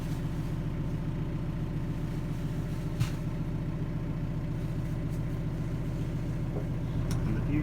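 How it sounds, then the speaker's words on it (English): Narrowboat engine idling steadily to charge the batteries, a low, even diesel throb running unbroken throughout, close and constant, with a few faint knocks over it. "You can hear our engine running in the background because we have to run it 2 hours a day at the moment to keep our batteries charged up."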